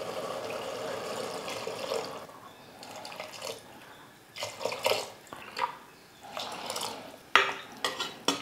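Water is poured into a cooking pot for basmati rice, a soft splashing trickle that comes and goes in short bursts with occasional clinks of the pot, near and fairly quiet.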